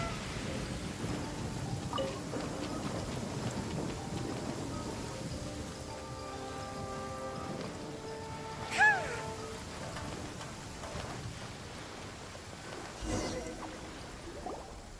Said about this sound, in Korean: 뭐가 터진 거야? 아이, 뭐야, 천둥이잖아.